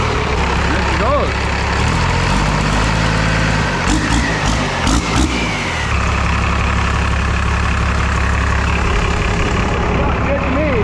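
A Cummins diesel engine in a 1979 Ford truck runs loud and close with a deep, rumbling idle, and its pitch shifts as it revs. Voices and clanks are mixed in around the middle.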